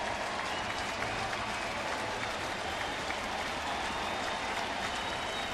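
A baseball stadium crowd at a Pirates versus Cardinals game applauds and cheers in a steady, dense wash of clapping, fairly faint and distant, with no one speaking over it.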